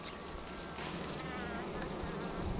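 Dense, close buzzing of many bees, continuous and fairly loud, with no other sounds.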